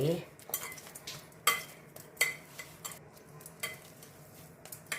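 A spoon stirs a spoonful of oil into palak paratha dough in a bowl, giving soft scraping with sharp clinks against the rim at irregular moments, and no voice is heard.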